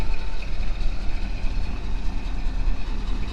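A Caterpillar D11 bulldozer engine running after reassembly, a low, steady diesel rumble with a constant throb and faint higher tonal whine, heard continuously from moderately close with no talking.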